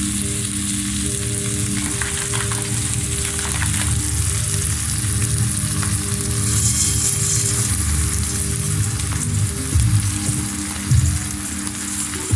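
Basmati rice hitting hot oil in a biryani pot gives a loud, steady frying sizzle with stirring scrapes, continuous throughout with no talk.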